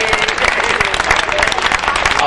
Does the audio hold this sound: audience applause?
yes